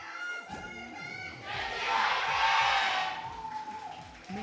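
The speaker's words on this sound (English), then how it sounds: "everybody's cheering for their respective teams" An esports arena crowd cheers at a League of Legends LCK 2018 regional match between Griffin and Gen.G, a loud roar that swells in the middle and then eases off.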